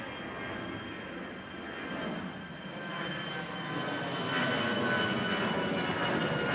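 Dassault Falcon business jet taking off at Amsterdam Schiphol, a continuous rushing engine roar that slowly swells louder as it powers away.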